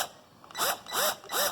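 Three ratcheting bursts from a 14 mm wrench loosening a valve spring lock nut on a Mercedes OM617 diesel cylinder head, evenly spaced, close and fairly loud, with no talk.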